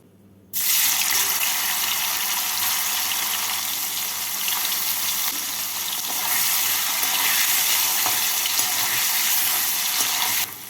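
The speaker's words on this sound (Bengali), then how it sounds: "এবার এই তেলের মধ্যে পনিরগুলোকে ভেজে নেব" Paneer cubes frying in hot oil for a vegetarian paneer and potato curry: a loud, steady, hissing sizzle that bursts in after a brief quiet start and holds evenly to the end, with no talking.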